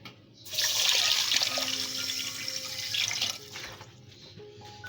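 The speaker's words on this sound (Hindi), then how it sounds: "साथ ही इसमें मैं पानी 3 गिलास के करीब ऐड करूंगी।" Water running from a tap into a cooking pot holding sugar, about three glasses poured for a sweet syrup; a steady splashing pour for a few seconds, then tapering off.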